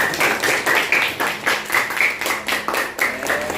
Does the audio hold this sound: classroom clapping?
yes